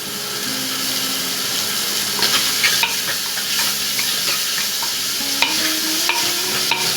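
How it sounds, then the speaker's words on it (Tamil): Onions, green chillies and curry leaves fry in a clay mud pot for fish curry, a dense, steady sizzle close up, broken by occasional stirring scrapes and soft knocks of the spoon. "நல்லா வதங்கட்டும் வெங்காயம்."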